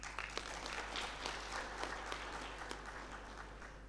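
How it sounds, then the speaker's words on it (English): Applause from an audience in a hall at a law conclave, faint steady clapping heard from a distance over a low electrical hum. "We respectfully acknowledge the presence of His Lordship and that of our revered advocates with a measured round of applause."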